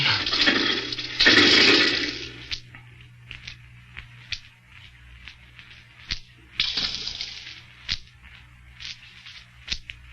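In a radio drama effect, a loose rock fragment drops into water deep in a pit: an initial splashing rush, then a second splash followed by scattered echoing drips and plinks over a low steady hum.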